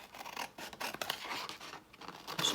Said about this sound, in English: One of them was the big scissors.